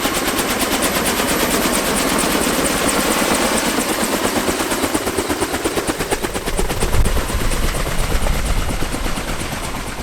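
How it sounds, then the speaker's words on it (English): A Comac dual-rotor helicopter flies at an airshow in Sichuan, its rotors giving a loud, steady, rapid thumping chop that continues without a break over a dense roar. "the Comac helicopter with its very unique dual rotor design"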